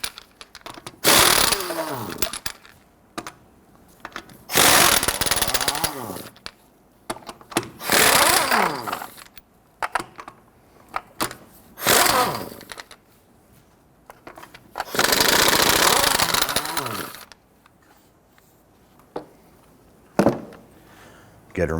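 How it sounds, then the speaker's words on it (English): Lug nuts on a Nissan Frontier being loosened with a power tool and 21mm socket, several loud broadband bursts of a second or two each, separated by quieter gaps with brief clicks and handling noise. "go ahead, loosen and remove your lug nuts."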